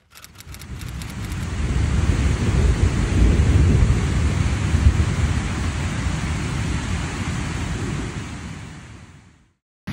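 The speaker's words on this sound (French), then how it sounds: "Quand on entend toujours l'orage gronder" Thunder rumbles through a night storm on a hike, a loud, deep, continuous roll that builds and lingers for several seconds before fading away, with rain-like hiss underneath.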